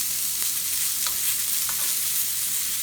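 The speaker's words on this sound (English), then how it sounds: "You can see the chicken are frying so nicely in my upper pan." Chicken pieces with a crispy coating fry in a small amount of oil in a pan, giving a steady close sizzle with light crackles throughout and no voices.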